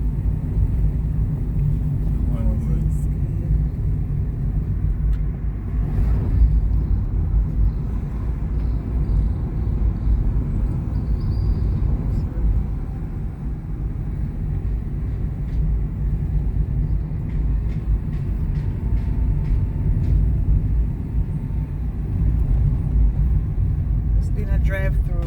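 A car drives through a residential housing scheme called Bel Air in Runaway Bay, St. Ann, Jamaica, its steady low engine and road rumble continuous and close throughout, with voices talking faintly over it.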